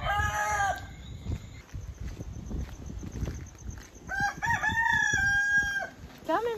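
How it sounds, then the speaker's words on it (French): Several roosters crow in the dark before dawn in a yard full of hens, with a few long cock-a-doodle-doo calls at moderate distance over clucking and background rustle. "On devrait entendre des coqs, normalement, à la quantité de poules qu'il y a ici."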